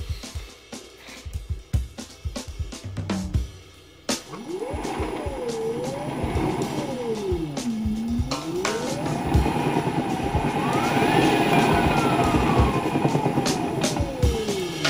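The electric motor of an Audi 80 EV conversion spins for the first time, its whine sweeping up and down in pitch and then settling into a rising, sustained hum, following a few sharp knocks and clicks.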